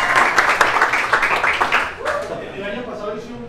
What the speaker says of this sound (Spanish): Muchas gracias y el segundo aplauso.